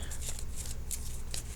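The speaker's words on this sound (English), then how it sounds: "shuffling the cards for just a few more seconds" Tarot cards are shuffled by hand in brisk, papery riffling bursts that come in uneven spurts over a low background hum, fairly close and moderately loud.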